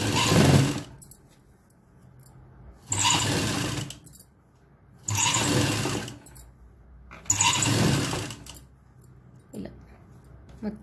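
A sewing machine stitches a round neckline in four loud, steady bursts of running, each about a second long, separated by brief pauses.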